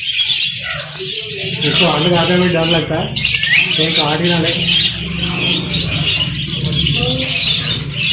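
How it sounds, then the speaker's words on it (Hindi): A pet parrot at a Lahore bird market gives repeated calls and squawks over constant crowd noise, with someone talking close by. "मेरा प्यारा तोता है ये"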